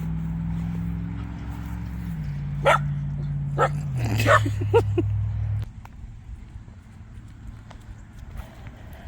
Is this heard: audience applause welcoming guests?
no